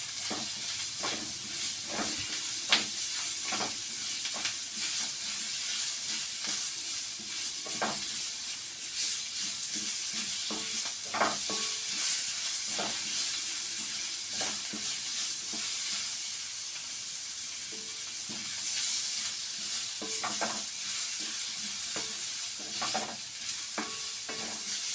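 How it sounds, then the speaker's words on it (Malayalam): Tomatoes sautéing in a pan while prawn roast is cooked, giving a steady close sizzle and hiss with frequent spoon stirring and scraping throughout. "ഇത്തിരി ഒന്ന് താത്തിക്കൊടുത്ത് ഇവിടെ തക്കാളി ഒന്ന് വഴന്ന് കിട്ടണം നമുക്ക്"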